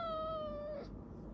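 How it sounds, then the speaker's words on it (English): A house cat gives one drawn-out, clear meow lasting under a second, close and fairly quiet, followed by a low room hush. "The cat also says hello."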